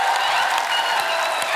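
Loud, dense studio-audience applause and cheering for Genelia and Riteish Deshmukh on a television comedy show, a continuous close roar of many hands clapping at once with no talking.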